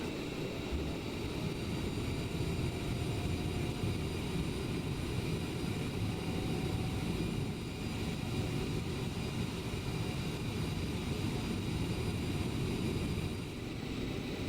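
A CRJ700 jet airliner in Microsoft Flight Simulator 2020 rolls forward at Fort Lauderdale after the parking brake is released. Its engines give a steady, continuous roar with a low rumble throughout, and there is no talking.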